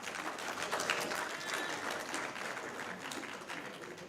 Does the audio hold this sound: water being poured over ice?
no